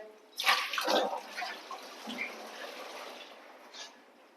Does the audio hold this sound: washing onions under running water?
yes